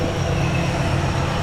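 A BMW fitted with a swapped-in Ford 302 V8 idles steadily at close range, a dense low rumble with a constant even drone and no talk.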